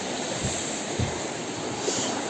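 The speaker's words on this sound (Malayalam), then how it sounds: "പുഴ, മലിൻ്റെ മുകളിൽ നിന്ന് വരുന്ന വെള്ളം." Mountain river water flowing down from the hills near Sonmarg in Jammu and Kashmir, a constant rushing wash with faint gusts of wind noise.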